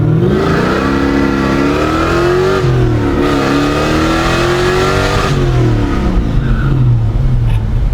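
A car engine revs hard and steadily at high pitch during a burnout, rising and dipping, loud and close, with no voices over it.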